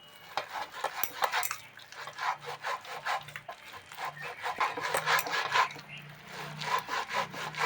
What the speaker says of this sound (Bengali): একটা নিয়ে নিচ্ছি, নিয়ে এভাবে ঘষে ঘষে নোদ বের করবো।